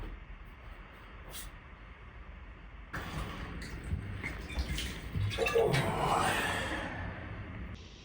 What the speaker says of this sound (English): Time to water some plants.